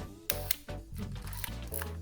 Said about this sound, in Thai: สปีดชัตเตอร์ 4 ก็ทำงานตรงนะครับ